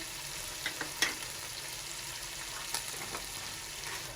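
Bay leaves and black pepper dropped into hot oil for mutton pulao, a soft steady sizzle with a few brief clinks and crackles, faint and close, no talking.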